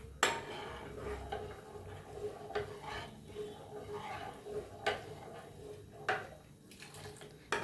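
A spoon stirs custard made with milk and sugar as it cooks in a pot, giving soft scraping with repeated sharp metallic clinks against the pot's sides, fairly close and quiet, with no talk.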